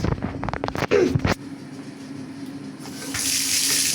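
Water runs from a tap into a bathtub as a steady, close hiss, preceded by a few brief handling knocks and splashes, and the flow grows louder and brighter toward the end.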